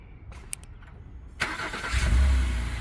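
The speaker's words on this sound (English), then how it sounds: "And there we go, the car remote starts." An Acura engine starts by remote: a few faint clicks and beeps, then the starter cranks and the engine catches into a steady close idle rumble.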